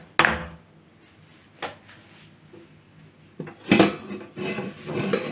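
A cake tin filled with chocolate cake batter is tapped against a surface: a few sharp, separate knocks spaced over several seconds, with a quiet pause between them and no talking.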